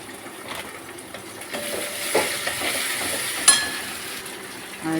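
Ginger paste and cumin fry in hot oil in a pan, giving a steady, moderately loud sizzle with a few scraping stirs and a light clink partway through. No one speaks.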